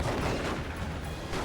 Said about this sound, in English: Las cannon gets another shot